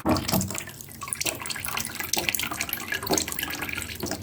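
Fluid drains from a 2003 Ducati 749S motorcycle into a pan, a steady splashing, trickling pour close by with small gurgles and drips.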